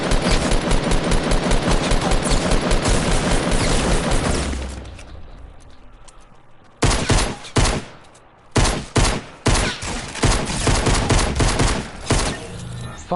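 Rapid bursts of gunfire ring out in the video game Fortnite, first a long continuous volley, then a quieter pause, then further sharp, loud clusters of shots.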